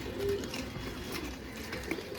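Pigeon cooing from a loft of large old-generation pigeons, soft low murmuring coos close by over a steady background hum, with no talking.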